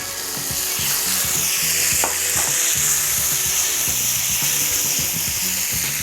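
Loud, steady sizzling of sausage frying in a pan as tomato goes in, with stirring scrapes and low bubbling throughout, close and continuous with no voices.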